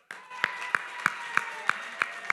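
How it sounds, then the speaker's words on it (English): Steady rhythmic clapping with sharp claps about three times a second at an awards ceremony, the Caribbean Global Awards 2023, heard over a constant hum of room noise. "Can we give a round of applause for John Sam?"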